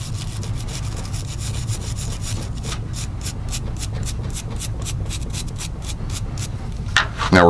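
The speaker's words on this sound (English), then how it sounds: "start to scrub and break up any fouling and anti-seize that I may have on the regulator itself" A brush scrubs fouling and anti-seize off a Komrad suppressor regulator in rapid, rhythmic back-and-forth rasping strokes, close and steady, with no talk and a brief clatter at the end.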